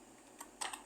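A search is typed into a web browser on a computer keyboard, with a few faint, close keystrokes clustered near the end of a quiet moment.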